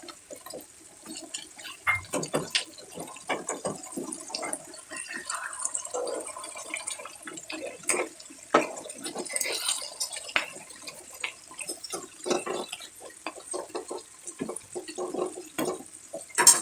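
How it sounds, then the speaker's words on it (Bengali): Water splashes and trickles into a pot of mung dal cooking with fried fish heads, a soft irregular patter of pouring and bubbling that continues quietly throughout. "এবার একটু জল অ্যাড করে দিলাম।"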